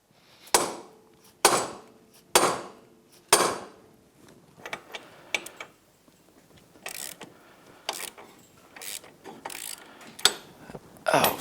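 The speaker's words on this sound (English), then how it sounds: "what I'm doing here is I'm just going to seat the ball joint into the knuckle so it doesn't spin" Ball joint being pressed and hammered into a steering knuckle on a Yamaha YXZ1000R side-by-side: four sharp, evenly spaced metallic impacts up close, followed by lighter irregular clanks and taps from tools and parts.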